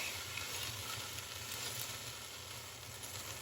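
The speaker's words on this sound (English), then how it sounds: "we're just going to sear the other side" Pork tenderloin searing whole in a hot pan, giving a steady, even sizzle and crackle of frying meat that holds constant throughout, close and alone with no voices.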